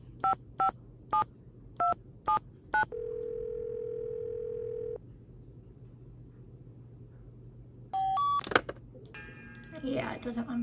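Telephone keypad tones in a Nancy Drew mystery game: a quick series of separate dialing beeps, then a steady tone, later more beeps and a short chirp, all faint and clean.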